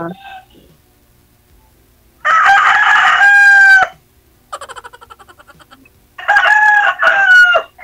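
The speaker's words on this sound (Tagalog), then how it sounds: "Yun na manok." A rooster on a farm crowing twice, loud and close, each call a long drawn-out cry with a softer clucking stretch between the two crows.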